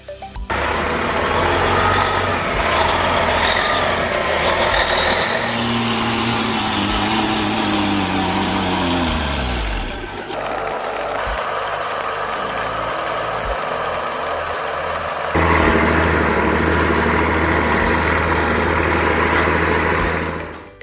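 A huge wood logging truck rumbles loudly and steadily nearby, engine note rising and falling as it drives and maneuvers in reverse, continuous heavy diesel drone throughout with no talk.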